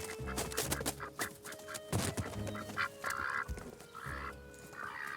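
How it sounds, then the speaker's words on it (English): Aylesbury ducks at a farm quack in short, raspy bursts, moderately close, over a busy background of shuffling and knocking noises. "possibly the farm's greediest occupants, Aylesbury duck"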